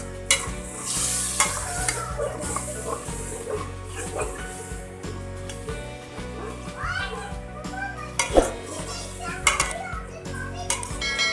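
Chicken frying with light-browned onions in a pan, stirred continuously, makes a loud, busy sizzle with scraping, while children's voices, talk and an occasional dog bark sound in the background.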